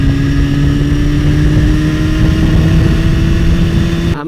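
A 2016 Suzuki GSX-R 750 sport motorcycle holds a loud, steady engine drone at high revs, the pitch barely changing as it runs at speed without any talk.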